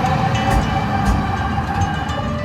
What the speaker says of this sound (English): to know that a tram is coming